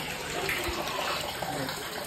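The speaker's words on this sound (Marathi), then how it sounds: "डोंगराच्या मधून पाणी येतं." A steady, close rush of water pours from the mountainside into the stone kund at Parasgad by Saundatti's Renuka Yellamma temple, an even flow with no break.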